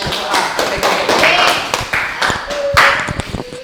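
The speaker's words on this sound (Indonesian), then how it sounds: "Ya, tepuk tangan buat kelompok A." Classroom applause for a student group: scattered claps and taps from several people, fairly loud and uneven, with voices talking and calling out over the clapping.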